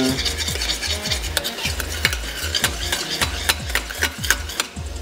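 Caramelized onion and rosemary being stirred in a pan after vinegar is added, a spoon scraping in a steady rhythm over a continuous close sizzle, with no talking.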